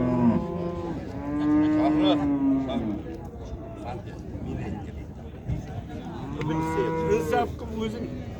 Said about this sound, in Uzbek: Yaxshi sigir ekan lekin sigir akalar.